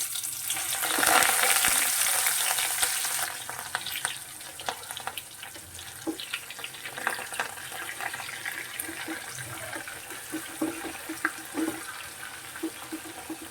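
Oil sizzles loudly as bitter gourd goes into the pan after asafoetida, the hiss settling into a steady crackle with occasional clinks of stirring.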